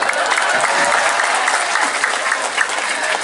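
A school audience of junior high students in Semarang claps for a local council chairman: a dense, steady wash of applause that carries on evenly for a few seconds with no break.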